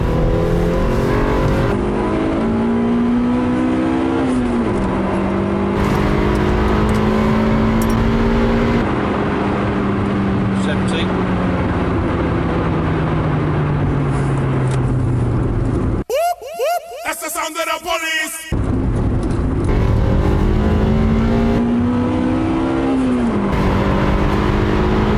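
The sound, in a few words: old rattly car engine revving, VTEC engaging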